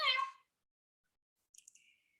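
Domestic cat giving a single short, loud meow, then silence and a few faint higher chirps or clicks afterward.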